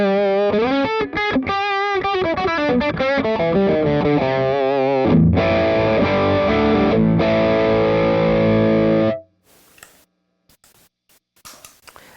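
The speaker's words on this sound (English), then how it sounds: "Another thing you can do is stack the Clarksdale with the Paisley drive." Electric guitar through a Wampler Clarksdale overdrive stacked with a Paisley drive on a country pedalboard: quick bending licks then ringing driven chords, loud and upfront, cutting off to near silence with faint clicks.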